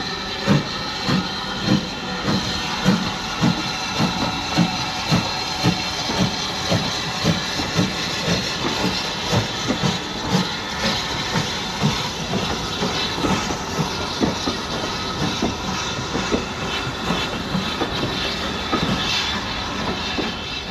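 A Class 4 steam tank locomotive, 80151, chuffs steadily as it hauls a train on the Bluebell Railway, rhythmic exhaust beats over hissing steam and rolling wheels, fairly close and continuous.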